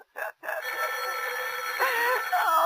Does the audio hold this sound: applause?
no